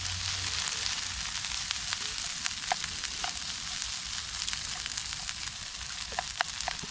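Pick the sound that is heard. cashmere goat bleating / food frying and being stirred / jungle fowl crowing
food frying and being stirred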